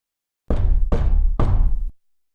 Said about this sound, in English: 3 distinct knocks resounded on the bedpost at my ear.